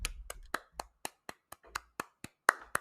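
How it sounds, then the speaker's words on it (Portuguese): Sparse, evenly spaced hand claps, about a dozen sharp individual slaps ringing out one after another in a quiet room, as a small group welcomes an arriving guest. "Por favor, aplausos."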